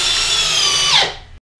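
A Makita sub compact brushless drill drives a screw with a loud, close, high whine that drops in pitch as the screw seats, then cuts off abruptly into silence.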